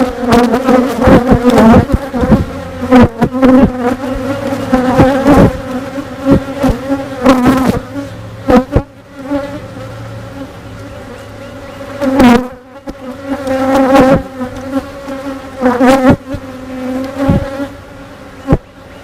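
Honeybees buzz close around an open hive during a beekeeping inspection, a dense continuous hum with individual bees darting past the microphone in louder swells, alongside occasional handling knocks.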